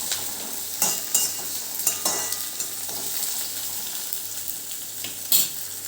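Capsicum and tomato fry and sizzle in a pan with a steady bright hiss, broken by a few sharp stirring scrapes and clinks, close by and with no voices.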